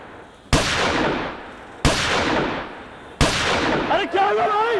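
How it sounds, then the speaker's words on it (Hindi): Three loud, sharp gunshots ring out about a second apart, each with a trailing echo, at night in a residential area, followed by a brief fragment of a voice. "पटाखों की नहीं है, गोली की आवाज है शायद।"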